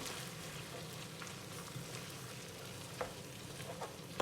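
Spicy red chicken curry with tomatoes and red pepper stirred in a pan, giving a steady, soft, close sizzle with faint scraping touches throughout.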